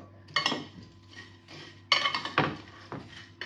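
A spoon clinks and scrapes against a bowl as a quick travel snack is mixed, with irregular close metallic taps and rattles, no talking.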